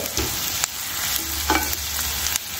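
Chopped onion frying in butter in a pan, an even close sizzle with a few scrapes of the stirring spoon.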